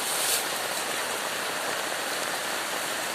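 Heavy rain pours steadily over open fields, a dense, even hiss that fills the whole clip at close range with no voices.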